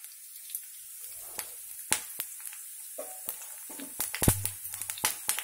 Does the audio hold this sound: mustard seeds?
yes